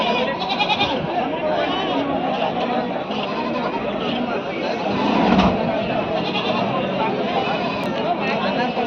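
Many goats bleat together at a busy goat market in Athani, loud and continuous, with people chattering and talking through the crowd noise.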